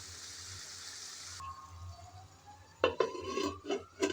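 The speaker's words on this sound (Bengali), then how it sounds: "ঢাকনাটা দিয়ে দিলাম কিছুক্ষণের জন্য।" A lid goes onto a cooking pot of simmering vegetable curry, making several close metallic clinks and knocks in quick succession after a stretch of quiet steam-like hiss.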